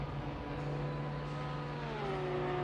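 GT4 race cars, McLarens among them, roll into the pits at Watkins Glen in a racing video game: a steady engine hum in the background with one tone sliding lower, no talking.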